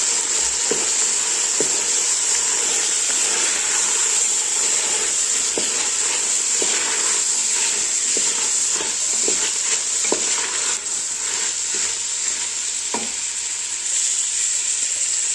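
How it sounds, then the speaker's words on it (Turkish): Rice being stirred into fried tomato paste in a pan makes a constant loud sizzle, with scraping spoon strokes and soft knocks against the pan at irregular intervals. "Şimdi arkadaşlar gördüğünüz gibi salçamız da kavruldu. İçerisine mama pilavımızı yapıyoruz. Ve karıştırıyoruz."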